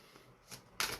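Oracle cards being shuffled by hand, soft papery riffles building to a louder, denser burst of flicking near the end, close and alone with no voice.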